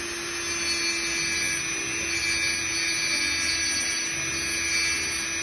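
A diamond disc saw cuts stone that is being wetted to keep it cool, giving a steady, loud, high-pitched whine with a constant hum and no pauses throughout.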